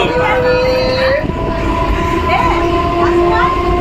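An Indian Railways train runs with a loud, continuous rumble and rattle, and tonal whines rise and fall within it. Voices talk faintly over the noise.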